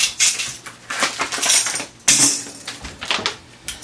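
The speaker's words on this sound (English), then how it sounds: "that's my little tambourine" A small tambourine jingling in irregular shaken bursts with bright metallic clinks, close and fairly loud, with no voices.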